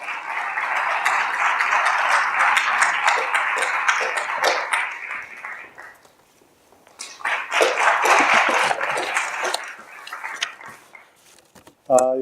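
An audience applauds at a founding assembly meeting, a dense burst of clapping lasting several seconds, then a short lull before a second round of applause that fades out.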